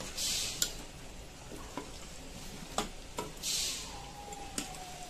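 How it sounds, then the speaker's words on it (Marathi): Shak bhaji vegetables are stirred and mixed in a pan, with a soft steady sizzle and several sharp spoon clicks against the metal scattered across the stretch. "आता हे सगळं आपण एकत्र मस्त मिक्स करून घेऊया।"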